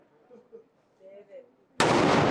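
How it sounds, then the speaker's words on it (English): In Zagreb, Croatia, after quiet murmuring voices, a sudden very loud cannon blast erupts close by and roars on to the end. "today we're going to watch the cannon go off."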